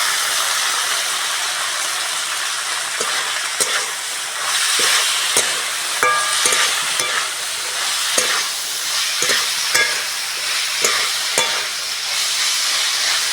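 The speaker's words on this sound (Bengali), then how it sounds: "সব সবজিগুলো ভালো করে ভেজে নিয়েছি" Vegetables and rice stir-frying with soy and tomato sauce for prawn fried rice, making a loud, continuous hissing sizzle broken by repeated sharp taps of a spatula against the pan.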